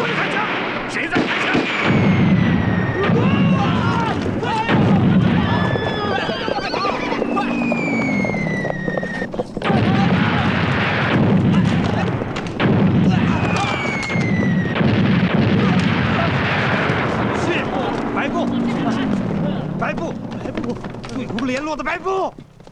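A battle scene in a Chinese war film fills with dense, loud gunfire and booming artillery, with whistling shells and shouting voices mixed in, plus horses neighing at times.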